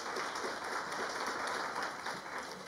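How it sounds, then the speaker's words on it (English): Steady applause from a crowd at a national brand forum, dense and continuous at moderate loudness with no speech over it. "can we clap for ourselves?"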